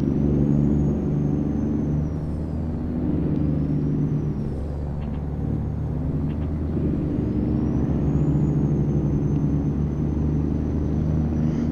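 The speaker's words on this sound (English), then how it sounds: "Using the AI traffic sound mod makes the trucks and all sound awesome." AI traffic trucks in American Truck Simulator rumble steadily with engine drone throughout, punctuated by air brake hisses and passing vehicle sweeps.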